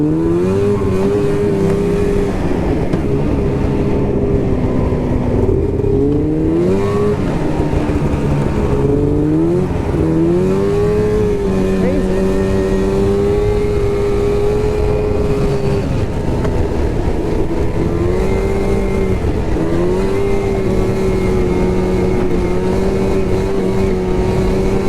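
A snowmobile engine drones close and loud through a ride on New Hampshire trails, holding a steady pitch with repeated dips and swells as the throttle eases off and opens again.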